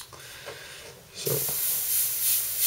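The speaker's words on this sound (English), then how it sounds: "you want to spray a little bit through it so that you have the color completely mixed" Paint sprays from an airbrush, a short soft hiss that swells into a louder, steady spray, close up with no talking.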